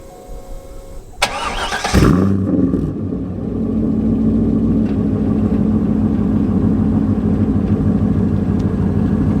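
A starter whirs briefly, then a loud Corvette C5 sports car engine with long-tube headers, an X-pipe and no mufflers fires with a sharp roar and settles into a rough, throaty idle, very close and unmuffled.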